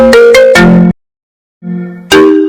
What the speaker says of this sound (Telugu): ఫోన్ లిఫ్ట్ చెయ్యి